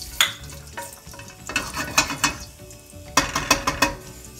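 Cumin and mustard seeds dropped into hot oil for dal palak, crackling and popping close by in irregular sharp bursts over a low background sizzle, with no talking.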